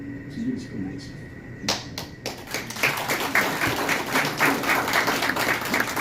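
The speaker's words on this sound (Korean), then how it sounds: "좋은 강의해 주신 강사님께 다시 한번 큰 박수 부탁드립니다" An audience at a Seoul National University politics department special lecture breaks into applause, many hands clapping in a dense, sustained patter that starts after a brief pause and continues under a voice.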